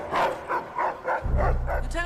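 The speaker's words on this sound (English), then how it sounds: "the dog's got a scent" A police dog on a scent lets out a series of short whimpering, yipping whines in an indoor building, with a low rumble of voices or room noise coming in partway through.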